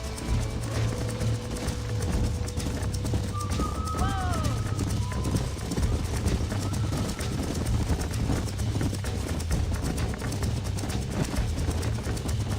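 Horse hooves clip-clop at a running pace in the Red Dead Redemption video game, a steady rhythmic thudding under continuous game ambience, with a brief bird chirp partway through.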